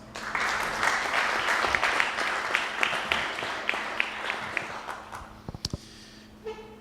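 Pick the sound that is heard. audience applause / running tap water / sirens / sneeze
audience applause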